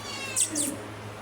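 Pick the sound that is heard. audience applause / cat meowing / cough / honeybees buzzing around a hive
cat meowing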